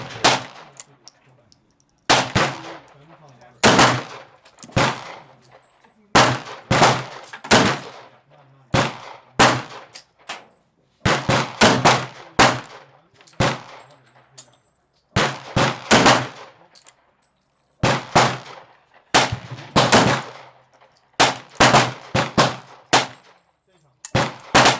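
Six rounds of .44 Magnum handloads, 220-grain wadcutter bullets over 7 grains of Unique powder, crack out one by one as sharp, loud, close shots with short pauses between them and no talking.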